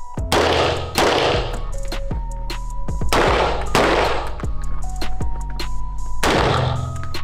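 Several loud, close gunshots fired in quick succession during a tactical shooting session, each sharp crack followed by a lingering metallic ringing, with brief gaps between volleys.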